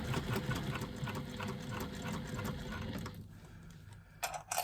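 Sewing machine stitching faux leather piping close against the cording, a steady close mechanical whir with rhythmic needle ticking that drops off near the end, followed by a few brief clicks.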